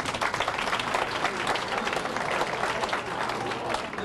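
Crowd applause from a lively bar audience on a Sunday night in Houston, loud, dense and steady throughout, with some cheering mixed into the clapping.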